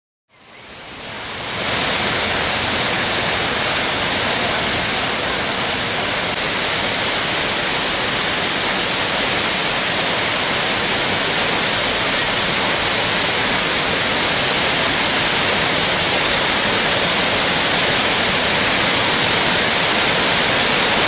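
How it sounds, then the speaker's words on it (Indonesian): The Temam waterfall in Lubuklinggau, South Sumatra, roars as a loud, steady, broadband rush of falling water that builds within the first seconds and then holds constant, with no voices. "Para pengunjung pun akan disambut dengan sejuknya pemandangan air terjun"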